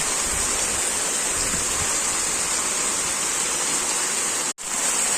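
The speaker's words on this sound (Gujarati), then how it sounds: "અહીંયાથી પણ જો કેટલું પાણી આવે છે." Heavy rain pours down in a monsoon downpour as rainwater rushes and floods the ground, a loud, unbroken hiss of water that cuts out for an instant near the end.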